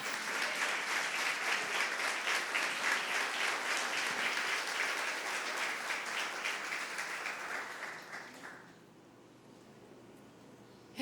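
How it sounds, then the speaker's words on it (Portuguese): A church congregation applauds loudly and steadily, a dense wash of clapping that holds for about eight seconds before fading out into quiet room tone. "Você pode aplaudir ao Senhor?"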